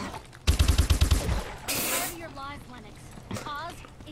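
Rapid automatic gunfire in Call of Duty: Advanced Warfare Exo Zombies, a loud close burst of about ten shots followed by a hissing blast, with game sounds and voices talking over it.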